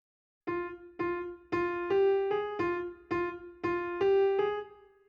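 Piano notes struck one after another in a short, mostly repeated melody, clear and moderately quiet, each note decaying before the next.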